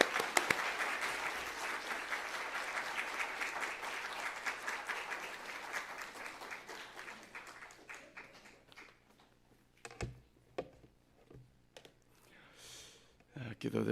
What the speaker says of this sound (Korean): 우리 목사님 나오실 때 우리가 낼 수 있는 가장 최고의 박수로 맞이하겠습니다